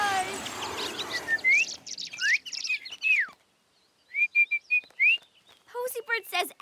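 A cartoon bird chirps and whistles in short rising and falling phrases, clear and close, with brief pauses between the bursts and some faint background sound early on.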